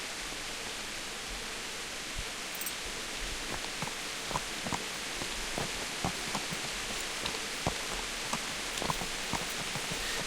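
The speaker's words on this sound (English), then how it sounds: "And it is raining out." Rain in Kingdom Come: Deliverance falls as a soft, steady hiss of fine drops, with faint scattered ticks and taps of water striking surfaces, continuous and quiet.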